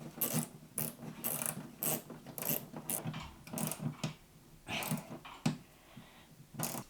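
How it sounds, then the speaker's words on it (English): A small hand ratchet clicks in rapid bursts while tightening a cable onto the load terminal of a 24-volt solar charge controller, close and crisp, with brief pauses between strokes and no talk. "So this small ratchet is really handy when you're working in tight spaces."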